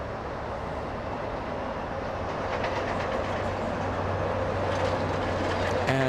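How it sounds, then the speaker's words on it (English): An Airbus A320 arriving at LAX from Charleston makes a steady broadband roar that swells slightly as it draws nearer, heard from the ground at a distance. "Airbus A320, that one flying in from Charleston"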